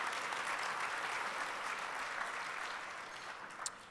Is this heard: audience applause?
yes